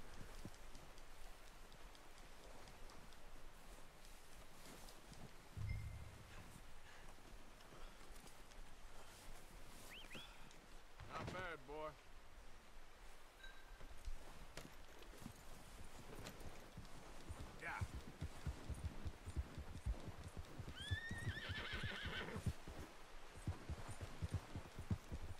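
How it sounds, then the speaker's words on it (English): A horse trots through snow in Red Dead Redemption II, its soft hoofbeats faint and steady, with a couple of brief whinny-like calls over quiet, rain-like ambience. "Where is my nice little horsey? There it comes, prancing around in the snow."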